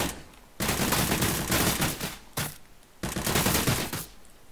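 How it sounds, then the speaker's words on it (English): Bursts of rapid automatic gunfire from a first-person shooter built in Unreal Engine 4, three loud sustained volleys separated by short pauses, with no talking. "we can aim down the side and we can shoot"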